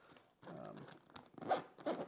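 Several quick zipping pulls on the laptop compartment zipper of a Black Ember Citadel R3 25L backpack rasp up close in short bursts, with a voice talking over them.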